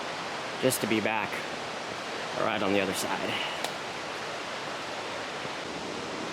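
River rapids on the Wisconsin River rush over broken rock in a steady, broadband roar. A hiker speaks briefly over the constant flow.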